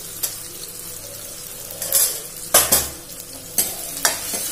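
Chopped tomatoes, green chilies, coriander powder and red chili powder frying in a pan for dal: a continuous sizzle broken by several loud stirring scrapes and spoon clatters, close and busy.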